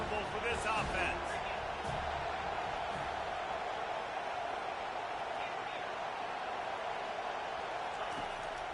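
Roaring stadium crowd at a Florida State Seminoles college football game, a dense steady wash of cheering and noise filling the whole stretch, loud and continuous.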